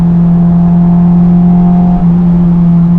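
Honda S2000 fitted with an HKS Hi Power catback exhaust, holding a loud, steady droning hum at near-constant revs, with a brief dip partway through and no talking.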